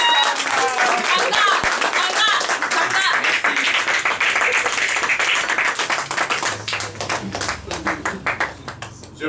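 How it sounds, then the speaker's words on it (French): A crowd in a Geneva hall applauds and cheers for a performer, loud, dense clapping that holds strong for several seconds and then thins into scattered claps near the end, with voices mixed in. "Vos acclamations s'il vous plaît."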